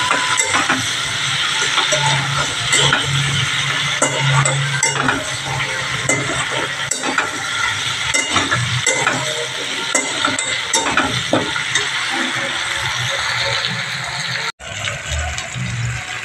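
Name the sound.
potatoes being stirred and fried in a pan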